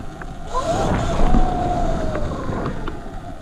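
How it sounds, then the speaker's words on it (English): An E-ride Pro 3.0 electric dirt bike pulls a wheelie outdoors: a rising electric motor whine swells and holds for about two seconds over steady rushing wind and tire noise, then fades back into the rumble. "Hit one more wheelie for good luck, good measure, the good measure wheelie."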